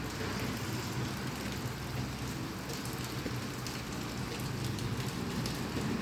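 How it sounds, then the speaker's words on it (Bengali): Steady rain falls on surfaces during a hot-season shower in Sylhet, a dense even hiss of drops lasting throughout, moderately loud with no voices. "বৃষ্টি কমে গেছে বৃষ্টি"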